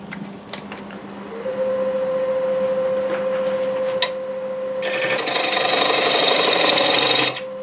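A freshly sharpened gouge cuts wood on a lathe with a steady scraping rasp over a humming tone, growing louder and rougher toward the end, close and without talk.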